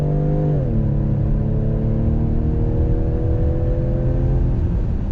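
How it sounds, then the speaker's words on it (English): A 2021 Ford Edge ST all-wheel-drive performance SUV pulls away under full throttle in sport mode, its engine dropping a gear and then droning and rising steadily, loud and continuous from inside the cabin. "Let's go on throttle in our all-wheel drive Edge ST."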